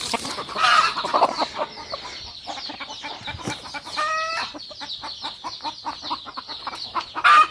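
Pure Giriraja country chickens cluck and chatter close by, with repeated short calls and a few higher squawks over a busy farmyard background.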